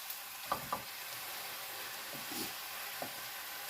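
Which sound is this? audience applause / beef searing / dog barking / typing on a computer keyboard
beef searing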